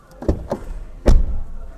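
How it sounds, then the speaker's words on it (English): A couple of light clicks, then a solid, muffled thump as the door of a 2025 Skoda Enyaq iV electric car swings shut nearby. "Now, the sound of the door is amazing."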